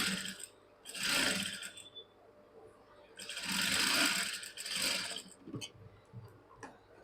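A sewing machine stitches along a blouse patti in two long, steady runs, pausing briefly between them before short, slow stitching bursts at the end. The whirring is close and clear.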